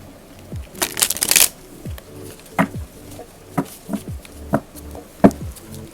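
Tarot cards are shuffled up close: a dense riffling burst at first, then a string of separate soft slaps and flicks as cards are cut and laid down, with no talking.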